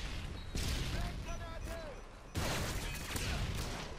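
Rapid turret gunfire in Call of Duty Modern Warfare 2 rattles in bursts, with a louder volley breaking out midway over a steady battle din, while a player talks over it.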